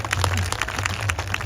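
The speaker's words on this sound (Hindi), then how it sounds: "एक बार ताली पीट के दिखा दे सारे करते।" An audience at a Geeta Jayanti gathering in Kurukshetra claps their hands. The clapping is scattered and rapid, a short burst of many separate claps at moderate level over a low background hum.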